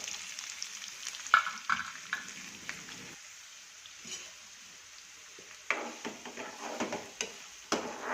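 Onion and green chillies frying in a pan after cumin and peanuts, a steady low sizzle with sharp stirring scrapes and clinks that come in bursts, close and moderately loud, with no talking.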